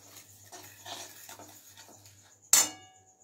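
Caramel syrup in a pan is stirred with a utensil, soft rhythmic scraping followed by a sharp metallic clang against the pan that rings briefly, close and otherwise quiet.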